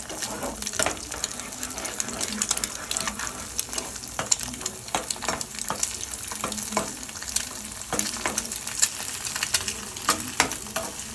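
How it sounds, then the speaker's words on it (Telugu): Eggs frying in hot oil for egg fried rice, a steady crackling sizzle with scattered sharp pops and spatters running throughout, close and fairly quiet, with no voices. "నూనెలో బాగా దోరగా వేయించుకోవాలి."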